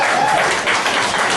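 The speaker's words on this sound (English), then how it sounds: "clapping for that's great" Meeting audience at a cantina applauds, a dense, steady wash of many hands clapping at once, loud and close throughout.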